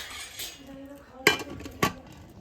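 A lid goes onto a pot of cooking rice with two sharp metallic clanks about half a second apart, close and fairly loud over a quiet kitchen background.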